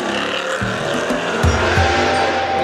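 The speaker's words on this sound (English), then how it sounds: "May dumaan na supercar." A supercar passes on a city street in Abu Dhabi, its engine a loud, close roar that swells and holds throughout, with a faint tire squeal and no talking.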